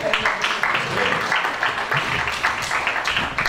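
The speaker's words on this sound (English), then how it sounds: "Y'all better keep clapping for that girl." Steady applause and clapping from a Juneteenth jubilee audience, a continuous moderate patter with a voice talking on a microphone over it.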